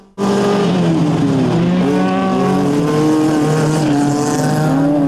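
Race cars in a summer survival race on a dirt track roar loudly and continuously, engines revving and shifting pitch with squealing tires, close and dense from start to finish.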